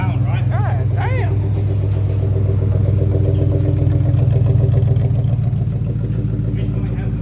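A car engine and exhaust fitted with a new catalytic converter idle loud and close with a low, steady growl and a rhythmic rattle, while people talk over it.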